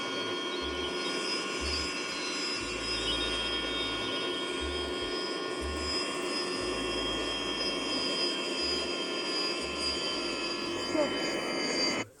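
Airplane engines in a video game drone steadily for the whole stretch, a loud broadband hum with faint low pulsing underneath, while a voice talks over it at intervals.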